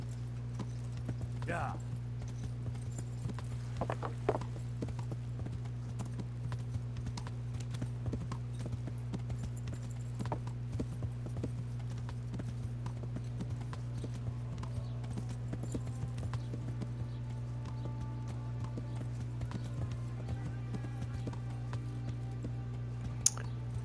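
Horse hooves clip-clop steadily on the ground in the video game Kingdom Come: Deliverance, under a low constant hum, with a brief spoken word over them.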